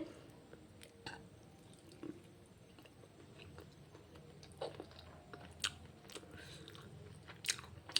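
Homemade momos being eaten close up, with soft biting, chewing and mouth sounds in a quiet room, punctuated by a few louder crunchy clicks.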